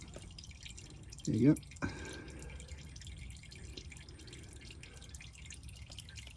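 Engine oil drains from a 2015 Toyota Camry into a pan. There is a brief splashing pour, then soft drips, with someone speaking briefly nearby.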